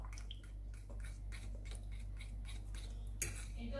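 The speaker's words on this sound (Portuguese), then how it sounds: "Vou misturar o leite de coco." Coconut milk being stirred into cake batter in a bowl, a soft wet swishing with light utensil clinks against the bowl, close and steady, with one sharper tap near the end.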